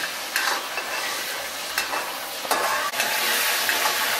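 Masala for a green chickpea curry frying in oil in a pan as it is stirred, with a loud, dense sizzle running throughout and occasional scraping strokes. Close by and free of talk.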